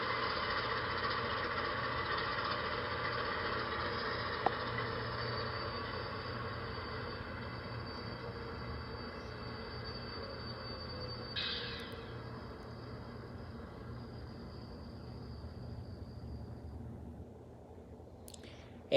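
An MTH Mavis Christmas toy train runs through its shutdown sequence with a steady mechanical hum and faint clicking. A brief chime or hiss comes near the middle, and the sound fades toward the end before a final click.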